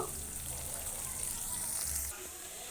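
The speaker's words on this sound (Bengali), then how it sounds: "এবার আমি ডিমটাকে একটু ভাজা ভাজা করে নেব।" An egg frying in a kadai, a steady soft sizzle with a bright hiss running throughout, close and moderately quiet, with low rumbling bursts underneath and no speech.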